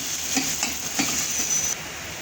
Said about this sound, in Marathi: मस्त परतला जातो तो मसाला पण आणि कांदा पण परतून घ्यायचं